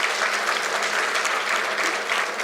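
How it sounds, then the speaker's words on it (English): Graduation audience at a university convocation applauding for parents and family members, a steady, dense round of clapping throughout with no talk over it. "can I have a great round of applause for your parents and family members?"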